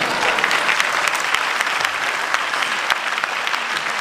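An audience at a company promotion-day meeting claps continuously, a dense, even wash of many hands that stays loud for the whole few seconds.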